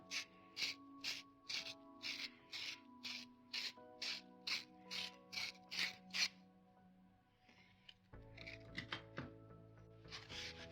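Rhythmic scraping strokes during assembly of a Filastruder filament extruder, about a dozen evenly spaced rasping passes against the walls, quiet and close, followed by a few more irregular scrapes over a faint mechanical hum.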